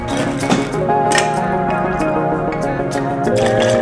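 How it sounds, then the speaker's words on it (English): Rum and piña colada mix poured from a cocktail shaker over ice into a glass in a restaurant, a soft liquid splash and drip running steadily under busy background noise. "we're gonna add the Pina Colada mix into the shaker and pour it over ice into the glass and drink"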